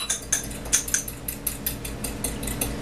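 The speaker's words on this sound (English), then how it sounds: "This is 1 tablespoon of cornstarch and 2 ounces of orange juice. I'm going to whisk this up." A fork whisks a slurry of cornstarch and orange juice in a small dish, giving quick repeated clinks and scrapes in an uneven rhythm, close and fairly quiet.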